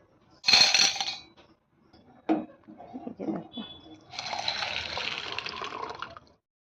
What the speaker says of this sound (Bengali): রয়েছে ছোলা দেখো এটা আমি এখন ভিজিয়ে দেব